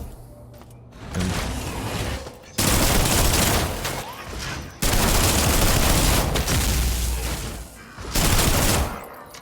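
Sustained SMG bursts in the video game System Shock, three long loud volleys of rapid automatic fire separated by brief pauses.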